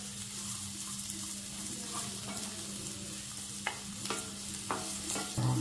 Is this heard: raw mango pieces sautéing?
yes